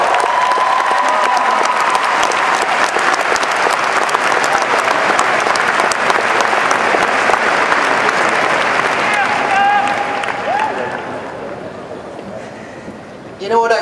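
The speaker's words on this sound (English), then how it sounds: "Give yourself a round of applause for that." A commencement audience breaks into loud, sustained applause in a large venue, dense clapping that holds steady for several seconds and then thins out, with scattered voices underneath.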